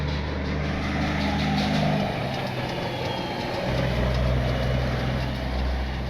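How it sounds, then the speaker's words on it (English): A log truck's heavy diesel engine rumbles steadily and fairly loud as it drives past outside Ukiah, California, its low drone shifting partway through with no talk over it. "Check out this log truck, sounds good."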